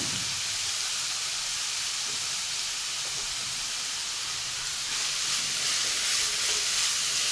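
Beetroot sizzles in hot oil with spluttered mustard seeds and curry leaves, a steady, close frying hiss that runs throughout and swells slightly toward the end, with no voices.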